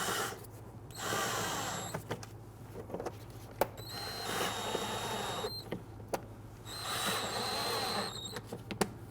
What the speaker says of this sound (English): Now that we've secured the last screw here